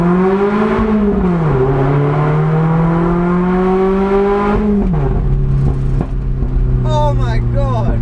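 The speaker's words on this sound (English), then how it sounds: "I forget until I drive it again just how amazing this car sounds" Lotus sports car engine pulling hard in first gear through a tunnel, loud rising harmonic roar that climbs, drops at a gear shift, then climbs again, echoing in the enclosed space, with brief voices near the end.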